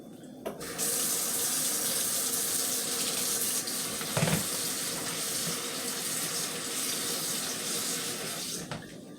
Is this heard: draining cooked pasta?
yes